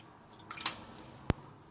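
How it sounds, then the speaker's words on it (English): A few drops of water land on paper being coffee dyed, a soft spatter then one sharp isolated drip, close and fairly quiet with no talking. "I'm putting a little bit of extra water on this top."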